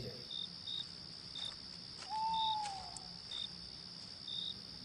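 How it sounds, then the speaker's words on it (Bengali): Crickets chirp outdoors at night in a village setting, a steady high pulsing trill repeating in regular bursts, with a brief sliding whistle-like call partway through and no voices. "শুধু ঝিঝি পোকার ডাক।"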